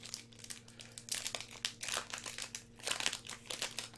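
The foil wrapper of a Pokémon mini booster pack crinkles and tears in a stubborn opening, a close, quiet run of rustling and crackling bursts with no talking.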